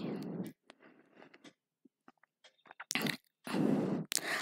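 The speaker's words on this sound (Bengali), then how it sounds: "এবার এর মধ্যে ভেজে রাখা বেগুনগুলো দিয়ে দিলাম আর খুন্তির সাহায্যে একটুখানি কেটে কেটে বেগুনটাকে বেশ ভালো করে মিশিয়ে নিচ্ছি" A spatula mixing and chopping fried eggplant with egg and spices in a pan, soft scraping and squishing strokes in irregular bursts, close and fairly quiet with gaps between.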